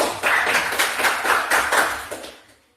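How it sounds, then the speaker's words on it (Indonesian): Applause from a classroom of students, a short burst of dense clapping lasting about two seconds before quickly fading out. "Kita kasih aplaus untuk kita semua"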